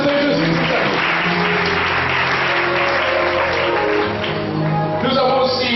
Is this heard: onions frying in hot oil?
no